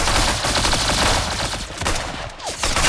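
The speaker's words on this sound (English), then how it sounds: "very good shooting." Dense, continuous gunfire in the Roblox game Arsenal, a loud rapid fusillade of overlapping shots filling the whole moment with no pauses.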